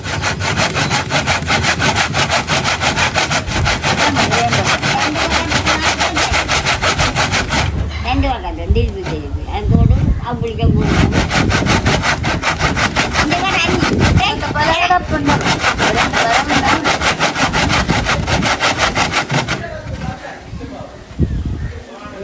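A casuarina wood stick is hand-sawn outdoors in Jaffna, with steady rasping back-and-forth strokes that run nearly continuously, close and loud, pausing briefly a couple of times while someone talks over the work.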